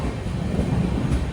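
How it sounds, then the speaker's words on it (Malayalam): The Veraval–Thiruvananthapuram Express pulls into Kudal station on the Konkan Railway in the monsoon, a close, heavy low rumble of rolling coaches that continues steadily throughout with no talk. "9:05 ട്രെയിൻ ഇതാ കുടാൽ റെയിൽവേ സ്റ്റേഷനിലേക്ക് എത്തുകയാണ്."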